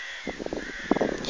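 Crows caw outdoors on a sunny day at a flowering beach, several clear harsh calls in quick uneven succession, fairly close and loud over quiet background, no talking.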